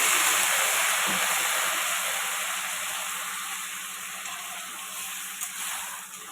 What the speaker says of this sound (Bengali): এবার দিয়ে দেবো সামান্য জল